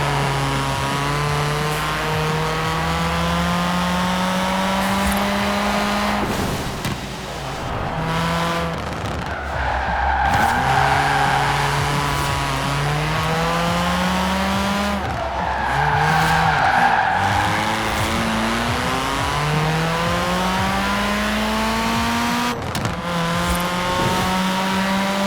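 A 1990 Nissan Pulsar GTI-R with an AWD drift tune and stock motor drifts in Forza Horizon 4: a loud, steady engine drone runs under sustained tire squeal, with the pitch dropping and climbing again across repeated slides.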